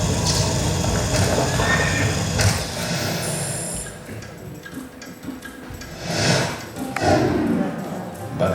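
A horse whinnies loudly several times amid clattering and rustling background noise, fairly close, with brief pauses between calls.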